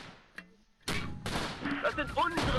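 Mortar fire in the WWII strategy game Close Combat set at Cassino: a faint early thud, then a loud burst of explosions and rumbling impacts lasting over a second and a half, with a voice talking over the barrage.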